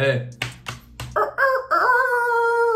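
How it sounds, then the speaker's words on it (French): A rooster crows loudly and close, a long strained cock-a-doodle-doo after a few short clucking notes, presented as a sound effect with no talking. "coq qui chante tôt le matin quand les oiseaux se réveillent"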